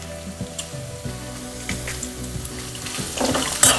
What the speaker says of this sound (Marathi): आता आपण कढीलिंब घालूया.